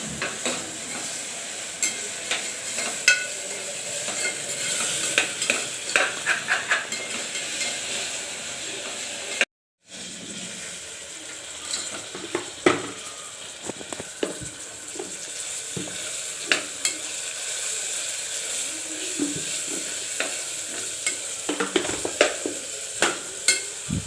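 Food sautés in a pan with a steady close sizzle while a spoon scrapes and stirs in frequent clinks, a brief gap of silence midway, no talk over it.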